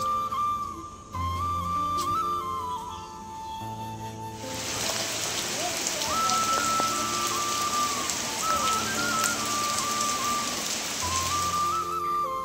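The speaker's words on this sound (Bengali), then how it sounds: "আর এইদিকে দেখো বৃষ্টি পড়ছে" Rain patters and hisses on surfaces, swelling from a light sound to a dense, loud downpour after a few seconds, with a faint tonal whistle-like line running through the background.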